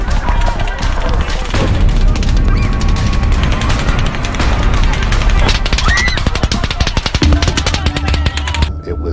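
Rapid bursts of distant gunfire at an outdoor concert crackle continuously, sharp repeated pops layered over a chaotic background, with voices faintly mixed in beneath.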